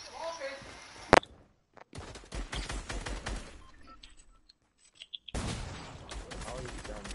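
Fortnite gunfire comes in scattered bursts of sharp shots and rapid volleys, loud and close, broken by quiet gaps, with a brief voice over the top.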